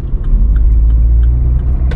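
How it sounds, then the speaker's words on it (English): A Vauxhall Corsa's engine drones as the car drives, a loud, close, steady low rumble with a few faint clicks on top and no talking. "Listen to the engine!"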